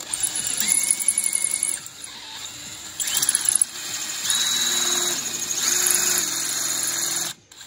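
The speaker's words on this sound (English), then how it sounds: "you really have to drill as straight as you can and go slowly" A power drill whines in several bursts, its pitch rising and falling as it bites into the metal of a damaged thread in a 1.9 TDI PD cylinder head, likely an old helicoil, with squealing tones between pauses, loud and close.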